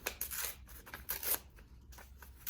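Paper torn by hand from old book pages for a holiday ornament craft: a series of short, dry ripping bursts at an uneven pace, close and fairly quiet, with no talking.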